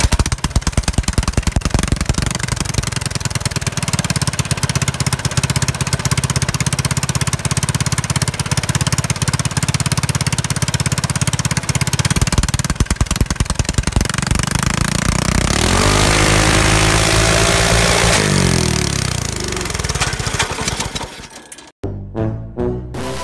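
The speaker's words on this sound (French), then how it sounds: "un petit test de vitesse en tour minute" A small, loud modified kart engine with a stage 1 tune and an undersized jet buzzes and revs hard for a long stretch, rising and falling in pitch before cutting off abruptly near the end.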